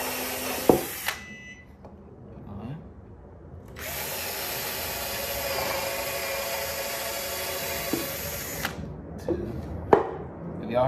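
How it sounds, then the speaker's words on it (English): A power drill whirs loudly in a sustained burst of several seconds, its bit rubbing against a floor while screws go into a wooden fruit stand, framed by clunks, taps and handling noises before and after. "my drill was rubbing on the floor"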